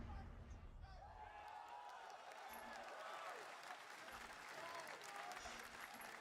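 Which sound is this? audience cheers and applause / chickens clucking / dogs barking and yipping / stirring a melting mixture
audience cheers and applause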